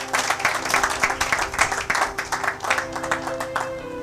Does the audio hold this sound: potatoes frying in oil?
no